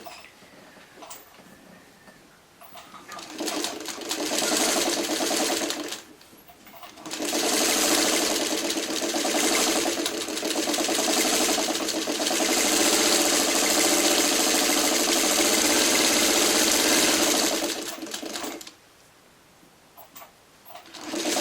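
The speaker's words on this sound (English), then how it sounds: "now I take the bottom piece and I sew it onto the middle" A sewing machine runs steadily for about ten seconds, stitching quilt block pieces together, with quiet pauses before and after the long continuous burst.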